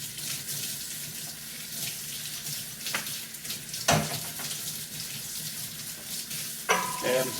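Tap water runs steadily into a sink as an apple peeling machine is rinsed, a continuous close hiss broken by a few sharp clanks and splashes.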